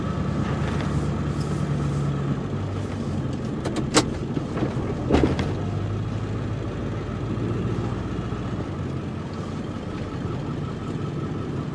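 A city truck rolls through an unplowed, snow-covered parking lot, giving a low steady engine rumble at middle distance, with a couple of sharp clunks partway through.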